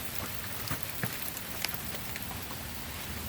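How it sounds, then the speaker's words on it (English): Steady rain pours onto a street and its drains, a dense continuous hiss with scattered sharper drips and splashes close by, no voices. "Yeah, it's rain everywhere."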